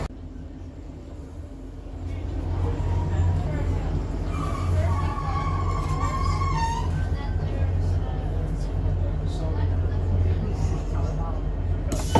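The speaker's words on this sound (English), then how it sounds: "we're finally on the train now." Steady low rumble of a train rolling along rails in Rhondda Cynon Taf, Wales, a continuous droning clatter throughout, with people talking faintly over it.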